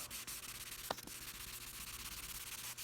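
Steady scratchy rubbing of hand sanding over filled paint chips, continuous and close, with a brief sharper scrape partway through.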